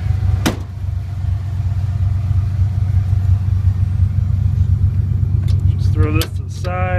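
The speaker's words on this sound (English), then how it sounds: "The exhaust sounds good out here." A low, steady exhaust rumble from a 1996 Ford Bronco's 5.8L V8 runs throughout, with a short voice near the start and another at the end.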